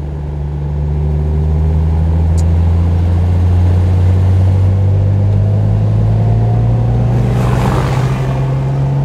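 A fully restored 1969 Mercedes 280 SL Pagode with a four-speed manual gearbox, its engine droning steadily and close by while driving, with a slight rise in pitch as it pulls. There is no talking over it.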